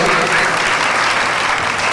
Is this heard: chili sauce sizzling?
no